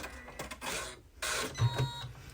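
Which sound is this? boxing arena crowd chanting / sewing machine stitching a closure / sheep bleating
sewing machine stitching a closure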